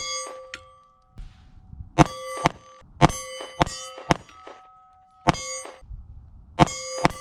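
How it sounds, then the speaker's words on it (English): Bullets striking a big steel gong target at an outdoor range, fired from a Sig P365XL pistol: about seven sharp, ringing metallic clangs at uneven intervals, each decaying with a bright sustained tone, with faint low rumble between hits. "So that big gong is what I'm shooting for."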